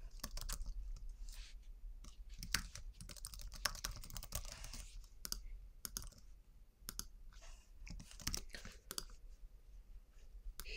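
Rapid bursts of clicky keystrokes on a computer keyboard as a new user account is entered, close and fairly quiet, with brief pauses between runs of typing.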